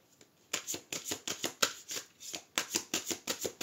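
A deck of tarot cards is shuffled by hand close up, a rapid run of about a dozen crisp riffling bursts in steady rhythm, with no talking.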